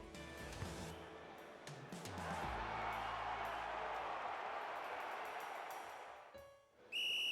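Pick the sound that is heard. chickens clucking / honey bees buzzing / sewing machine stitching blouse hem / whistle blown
whistle blown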